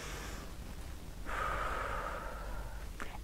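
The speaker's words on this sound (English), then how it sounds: "Take a deep breath in." A single deep inhalation, a steady breath drawn in through the nose for about two seconds, close and fairly soft, followed by a brief quiet moment.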